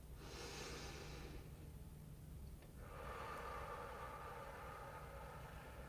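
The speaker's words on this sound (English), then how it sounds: "Now breathing in through your nose." Someone breathes in through the nose during a guided body practice, making two long, close, airy inhalations separated by a short pause.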